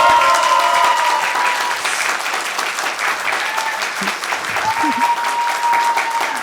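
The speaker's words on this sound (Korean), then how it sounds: "여러분 지금까지 고생해준 우리 이재명 시장님께 여러와 같은 박수 다시 한번 부탁드리겠습니다." Steady crowd applause for Seongnam mayor Lee Jae-myung at a youth talk event, dense and sustained throughout with scattered cheers and voices mixed in.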